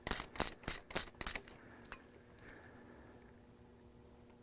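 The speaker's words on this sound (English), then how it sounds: "we'll use the Allen wrench and socket to put the caster wheel back on the fork" A socket wrench ratchets as a caster wheel is fastened back onto the fork of a standard manual wheelchair. Five or six sharp, close clicking bursts come in quick succession, then quiet room tone.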